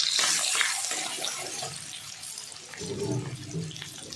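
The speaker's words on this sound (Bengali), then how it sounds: "একটু জল দেবো, নাহলে মশলাটা পুড়ে যাবে।" Water pours into a pan of cooking spices, including ground coriander, cumin and bay leaves, with a close, gushing splash that bubbles and settles, and no talking.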